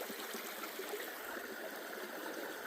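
Creek water flows steadily past a gold sluice, a constant close rushing and trickling with no breaks and no voices.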